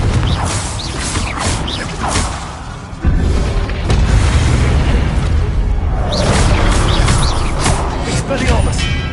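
Confringo blasting spell explosions in the Hogwarts Legacy video game: loud, dense booming bursts with crackling debris and magical whooshes, a sharp blast hitting around the midpoint, sustained over busy combat effects.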